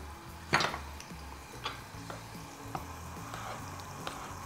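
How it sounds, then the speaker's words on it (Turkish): Spinach and green pepper sautéing in a pan, giving a steady low sizzle with a sharp clatter near the start and scattered light scrapes of a utensil stirring, close and moderately quiet, with no talking. "Yavaş yavaş soteleyelim."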